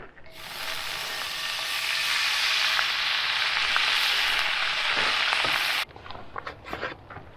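A cup of water goes into the hot pan a turkey was just roasted in while making gravy at a camp. It sets off a loud, steady sizzle and hiss that stops abruptly, followed by a few faint clinks.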